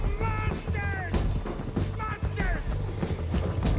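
Horse hooves clip-clopping at a gallop in the video game Red Dead Redemption 2, a steady drumming beat under gunfire-like crashes, shouting voices and background music.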